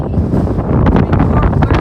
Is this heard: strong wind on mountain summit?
yes